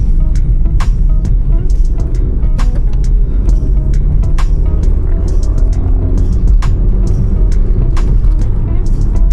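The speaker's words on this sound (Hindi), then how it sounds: "ट्रैफिक हो गया है ट्रैफिक" Busy Delhi road traffic rumbles close by, a dense steady drone of engines with frequent short horn beeps and clicks punctuating it throughout.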